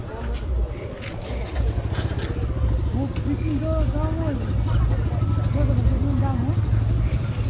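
A motorcycle being moved and parked at night among other bikes: a steady low engine rumble runs throughout, with people talking over it close by.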